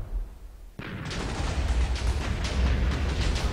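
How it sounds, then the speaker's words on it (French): In Minecraft, a dense, continuous barrage of booming cannonball blasts and rumbling impacts erupts suddenly after a brief quiet moment and keeps pounding an island without pause. "Une pluie de boulets de canon qui s'abat sur cette île."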